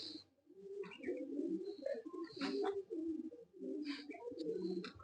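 Pigeons coo repeatedly nearby, low throaty calls rolling one after another, with a few faint chirps above.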